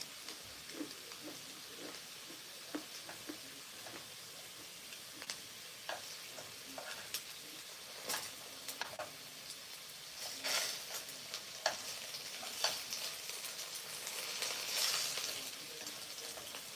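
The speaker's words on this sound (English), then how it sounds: "So I just saute the potatoes." Potatoes sautéing in a pan as a side dish: a gentle, steady sizzle broken by repeated clicks and scrapes of stirring, fairly close and without talk.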